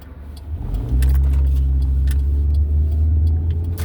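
A car driving along a desert road between Desert Hot Springs and Yucca Valley, with a steady, loud engine drone and road rumble that builds up in the first second and then holds.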